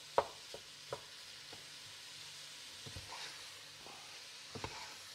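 Ground beef and onions sizzling steadily in a pan for chili con carne, with a few soft scrapes and clinks of stirring over the quiet, constant frying hiss.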